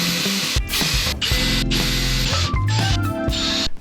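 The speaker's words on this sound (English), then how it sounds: "And now I'm just gonna put the screws in. I'm gonna drill a guard hole." A power drill bores a 1mm guide hole for screws inside a boat cabin during a restoration, its motor whirring steadily and close with brief stops and ratcheting changes in pitch, with no talking.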